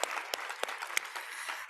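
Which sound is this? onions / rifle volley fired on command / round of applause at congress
round of applause at congress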